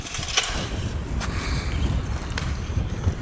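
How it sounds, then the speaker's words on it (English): Wind buffets the microphone with a steady low rumble, broken by a few brief gusts and faint knocks. "Getting windy again, too."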